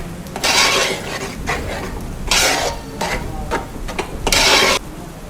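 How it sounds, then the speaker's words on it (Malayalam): Maggi noodles tossed into masala in a pan, with loud, rhythmic scraping strokes in several distinct bursts over a light sizzle. "മാഗി മൊത്തം എടുത്ത് ഇങ്ങോട്ട് തട്ടിയിട്ട് ആ മസാലക്കകത്തോട്ട് മിക്സ് ചെയ്യുക"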